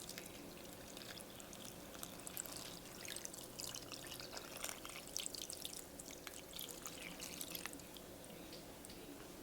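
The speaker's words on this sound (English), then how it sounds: "I'm going to cover it with water, cover all the ingredients with water." Water is poured over beef bones in a pot for bone broth, a faint, steady trickle with light splashes and drips, quiet and close.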